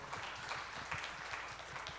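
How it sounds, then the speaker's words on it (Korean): Applause from a church young adults' gathering in a warm hall, greeting a mentor: a dense, steady patter of many hands clapping at once, fairly quiet and distant, continuing evenly without voices over it. "우리 멘토님께 박수로."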